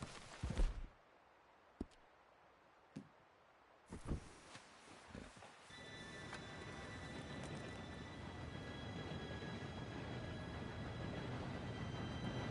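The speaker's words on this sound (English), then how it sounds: "Train should be here any minute now." A train approaching in the video game Red Dead Redemption 2: after a few sharp isolated clanks and thuds, a rising, continuous rail rumble and rolling clatter builds and grows steadily louder as it nears.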